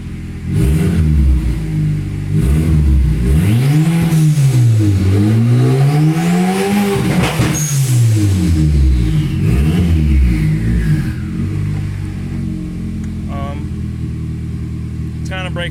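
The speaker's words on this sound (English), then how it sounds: "She seems to be revving up a lot better." A turbocharged Honda Accord engine with a fault revs repeatedly, rising and falling in loud close pitch sweeps, then settles to a rough idle as it still breaks up.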